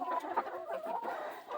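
Chickens cluck and murmur close by in a steady, busy stream of short calls, with no talk over them.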